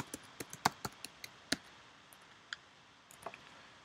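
Sparse, quiet keyboard typing as a search term is entered in Google Docs: a dozen or so crisp, close clicks in an uneven rhythm with short pauses, no talking.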